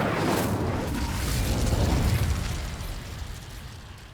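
An Incendio fire spell goes off in Hogwarts Legacy, a rolling, roaring whoosh of flame that swells and then slowly fades over a few seconds.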